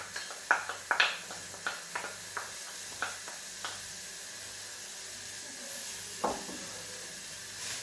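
Garlic and spring onion sauté in a pot, a low steady sizzle under a string of light clicks and taps from a utensil against the pot, fading to a soft hiss.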